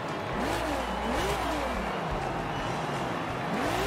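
A restored Lamborghini in Forza Horizon 5, its engine running and revving in rising and falling sweeps over a steady low rumble, close and loud, with faint voice underneath.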